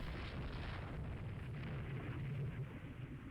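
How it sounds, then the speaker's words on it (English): Naval gunfire in the Rule the Waves 3 video game, a steady rumbling barrage of distant booms and explosions rolling continuously without pause. "it sounds like there's gunfire back there"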